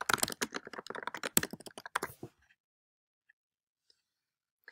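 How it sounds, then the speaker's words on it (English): Quick bursts of typing on a computer keyboard for about two seconds, close and crisp, then silence with a couple of faint isolated clicks. "you're going to type your name like you would in an official signature"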